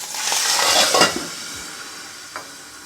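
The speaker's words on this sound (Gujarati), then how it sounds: "તુવેર છે ને વઘારીએ ને તેલમાં તો ઉડે સીધી" Cumin, asafoetida and turmeric hitting hot oil for tempering a green pigeon pea and brinjal curry, a bright hissing sizzle that swells then settles, with a couple of spoon clinks.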